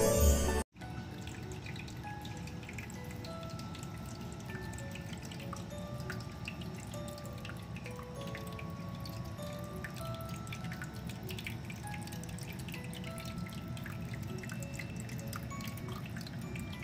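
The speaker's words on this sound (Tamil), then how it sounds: "இப்போ இந்த வாட்டர் ஃபவுண்டைன் பார்த்தீங்கன்னா என்னோட பெஸ்ட் ஃப்ரெண்ட் அப்படின்னு கூட சொல்லலாம்." A decorative home water fountain trickles and drips steadily, close and continuous, with no voices.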